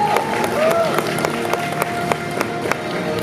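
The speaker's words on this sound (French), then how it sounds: "Vous pouvez l'applaudir, s'il vous plaît" An audience applauds a cosplayer at a costume parade, a dense, steady wash of clapping with sharp individual claps standing out and crowd murmur beneath, sustained for several seconds.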